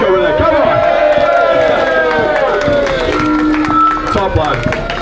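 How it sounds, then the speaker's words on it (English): A crowd at an immigration protest outside a hotel in Aberdeen claps for a man named Derek: loud, steady patter of hands under loud shouting and raised voices close by. "round of applause for Derek over there"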